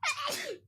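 A single quick sneeze, sharp and breathy, fairly close, with a short burst followed by a trailing exhale.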